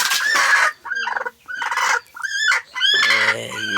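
A hen clucking close by in loud, repeated bursts of rising calls with short pauses between them, and no talk over it.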